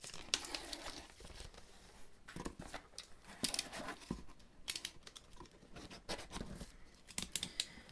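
A paper letter being torn open by hand, a close run of irregular rips, crinkles and rustles that come in short bursts over several seconds.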